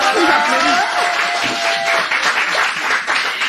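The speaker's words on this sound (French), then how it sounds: "on applaudissez pour Callaghan, s'il vous plaît." Loud, sustained applause from an audience, dense clapping filling the room with a few voices and whistles mixed in.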